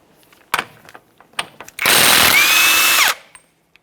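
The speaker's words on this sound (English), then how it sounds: "let's continue on with a 32mm to remove our axle nut." A power tool driving a 32mm socket to remove the front axle nut on a 2012-2015 Honda Civic, a loud continuous whir of about a second after a few sharp clicks and clanks, with a brief whine near the end.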